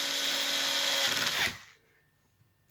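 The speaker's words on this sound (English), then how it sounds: "Let's just put in these little screws, 4 screws" An electric screwdriver on a low torque setting drives small screws into a Traxxas X-Maxx rear differential, a steady whirring buzz that stops abruptly, followed by near silence with a faint click.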